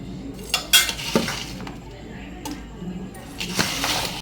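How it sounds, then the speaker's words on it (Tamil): Tamil shop-style mixer snack ingredients, peanuts among them, stirred together in a bowl, with scraping and clinking strokes coming in a few loud bursts. Someone talks over the mixing. "அதையும் போட்டு மிக்ஸ் பண்ணிக்கோங்க அப்புறம் வேர்க்கடலை அதையும் போட்டு ஒரு கலர் கலருங்க"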